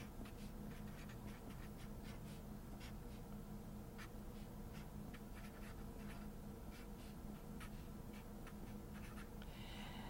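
A pen scratches steadily across paper while someone writes out a math expression, a continuous series of short, close strokes with no talking.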